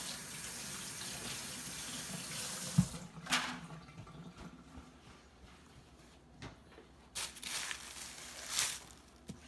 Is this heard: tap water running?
yes